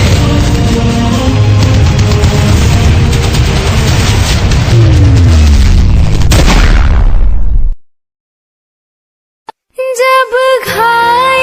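Loud gunfire sound effect in a school stage play about brave soldiers, a dense sustained roar of bursts and booms lasting several seconds before cutting to silence, followed by faint music-like tones.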